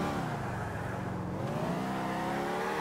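Game car engine in GTA IV droning steadily with low harmonic hum and slight pitch shifts, moderately loud and continuous with no voices.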